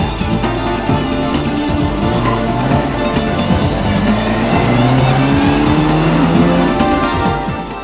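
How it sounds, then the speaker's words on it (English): Porsche rally car on a rally stage at the Rally of the Tests, its engine roaring loud and steady throughout with tyre squeal and skidding as it drives hard. "In the entertaining Porsche, the Melsons win their class."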